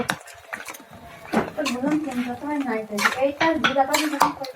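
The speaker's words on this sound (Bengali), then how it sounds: "আমি এখন মাখাই নেব" Cinnamon, clove, black pepper and oil being mixed into food, with close clattering and scraping of utensils against a dish while a voice talks over it.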